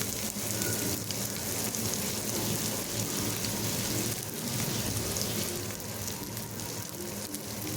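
Green chilies sautéing in hot oil in a pan, a tempering for kara kuzhi paniyaram batter, with a steady, loud, dense sizzle and crackle running unbroken throughout, no voices present.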